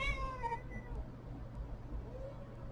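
A single cat meow sounds near the start, a short falling cry, followed by a faint second call amid quiet room noise.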